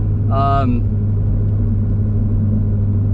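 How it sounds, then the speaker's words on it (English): Steady low road rumble inside the cabin of a modified 2023 Toyota GR86 10th Anniversary Special Edition with a Tomei exhaust and little sound deadening, a constant loud drone while driving, with a brief voice near the start. "You do hear a lot of road noise."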